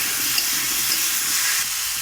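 Ground spices, including a little chilli powder, fry in oil for a fish curry and are briefly stirred, making a loud, dense sizzling hiss that stays close and steady.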